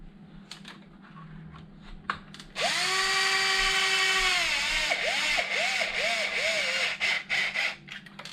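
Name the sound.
power drill removing small screws from Traxxas Wide-Maxx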